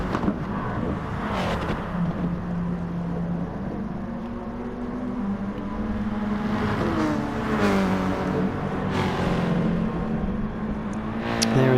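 Race cars lapping Laguna Seca in a racing video game: engines droning and revving with gear-change swells and cars passing close, continuous throughout and fairly loud, with no talk.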